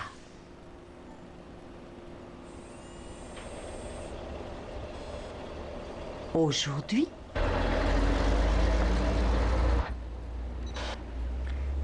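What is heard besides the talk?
garbage truck approaching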